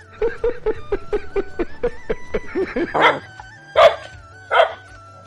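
A nuisance dog barks repeatedly at close range: a quick series of short yaps, then three louder, spaced barks, with no talk over them.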